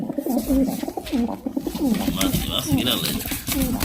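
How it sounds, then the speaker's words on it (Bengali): Pigeons coo repeatedly in soft, rolling phrases, several birds overlapping close by with continuous throaty calls throughout. "ফরাদ ভাই কিন্তু আল্লাহর রহমতে এই যে 5 পেয়ার কবুতর একসাথে ডেলিভারি করতেছে খুবই সুন্দরভাবে।"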